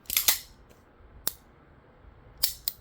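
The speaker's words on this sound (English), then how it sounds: "So you want to have something like an audible click. So click to fire." Trigger click of a Smith & Wesson M&P 2.0 Metal Comp pistol: a few short, sharp, quiet mechanical clicks spread across a few seconds, close up, with no talking.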